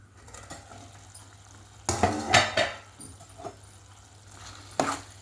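Chana dal and amaranth stem masala curry stirred in a metal pot, with clanking spoon and pot sounds over a soft sizzle, a louder burst of scraping in the middle and a final clatter as the lid goes on.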